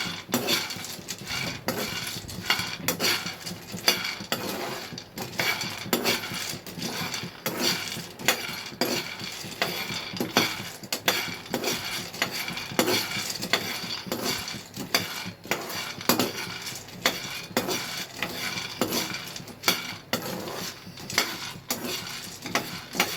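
Nuts roast on a hot tawa as a utensil repeatedly scrapes and clinks against the metal in a steady, close stirring rhythm for the whole stretch, with no one talking.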